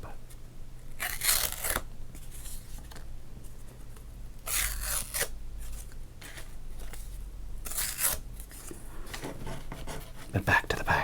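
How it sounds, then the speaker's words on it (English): A cardboard instant win game card from a baseball card pack is torn up close to the microphone, several sharp ripping bursts separated by pauses, with soft speech in between. "Here's our instant win game. We're not going to win, so we like to rip it up."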